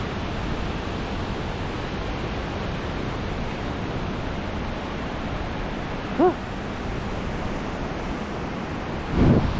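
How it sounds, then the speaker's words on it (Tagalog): Water rushes steadily and without a break beside a riverside cycling lane in Yeoju, South Korea. The broad wash stays even from start to finish, with a brief faint bump near the end. "Ang ganda ng tunog ng tubig."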